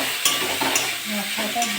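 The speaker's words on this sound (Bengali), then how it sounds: "মশলাটা দিয়ে একটু ভালো করে ভাজবো।" Ground spices fry with ridge gourd and potatoes in a pan, a close, steady sizzle punctuated by a few sharp spatula scrapes and stirs, with no talking.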